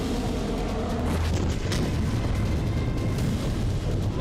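Explosion from an Israeli jet strike in Tartus, Syria, a sustained heavy rumbling roar of blast and ongoing detonations filling the whole stretch, loud and without speech.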